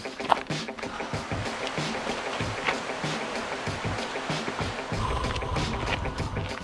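Cold wind above the tree line on a mountain hike in the Rockies, a steady, loud rushing roar that buffets and swells without letup and sounds close to the ear.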